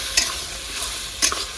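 Chopped tomatoes, two large ones, cook in a pan with a little water, giving a soft steady sizzle with a few quick spoon scrapes and stirs. No one talks.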